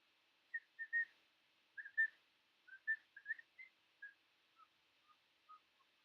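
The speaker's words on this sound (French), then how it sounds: "Je siffle très très mal, je sais." Someone whistles a short, halting series of notes, quiet and close, with gaps between phrases and no talking.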